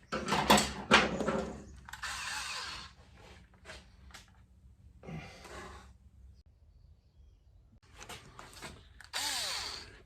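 Clamps are tightened on the carburetors of a 1983 Yamaha XJ900 Seca. Close, intermittent bursts of metallic scraping and ratcheting tool noise come separated by quiet pauses.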